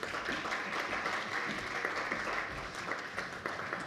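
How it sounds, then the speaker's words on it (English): An audience at a conference plenary claps steadily for a panel of speakers, a dense, even wash of applause held at moderate level throughout. "a big applause for all of them."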